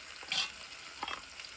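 Food with chili powder is stirred in a hot pan, a short sizzling scrape rising twice over steady frying hiss.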